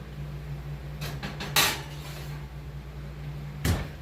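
An oven door shuts on a dish of ground beef and buffalo chicken enchiladas, giving one sharp clunk in a quiet kitchen, with a lighter knock a couple of seconds later over a steady low hum.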